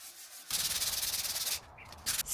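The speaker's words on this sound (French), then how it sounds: "là du coup je vais poncer" Sanding a piece of furniture during a laundry room renovation: a loud, close, rhythmic rubbing rasp that starts abruptly, runs steadily for about a second, pauses briefly, then resumes.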